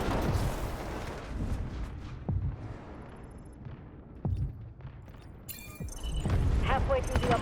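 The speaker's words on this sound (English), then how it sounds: "Artillery barrage 13 incoming." Video-game artillery barrage: a few heavy, booming blasts spaced out over several seconds, with rumbling decay between impacts and the loudest bursts toward the end.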